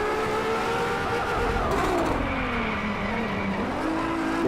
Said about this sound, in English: The engine sounds pretty powerful.